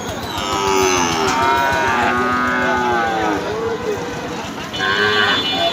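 Cattle lowing at a crowded cattle market in Betaga, Bagerhat, several loud, overlapping moos from close by over a constant bustle of people and background voices.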